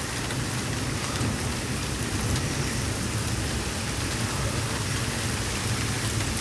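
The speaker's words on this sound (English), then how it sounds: "Now it's raining harder." Heavy rain pours steadily on outdoor surfaces, a dense, even hiss lasting throughout with a low rumble underneath that could be distant thunder; no talking.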